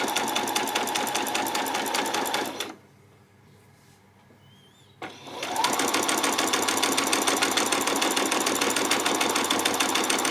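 A sewing machine runs a gathering line on a peasant top with no back stitch at either end, a steady fast whirr that stops for about two seconds and then resumes, close and loud with no talking.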